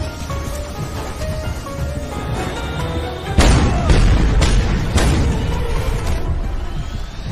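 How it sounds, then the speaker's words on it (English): Satellite-controlled missiles detonate in the Just Cause 2 video game: after a quiet stretch, a sudden loud boom hits, followed by several more heavy blasts in quick succession that roll and rumble out over the remaining seconds. "allowing me a chance to test my impressive battery of satellite-controlled missiles"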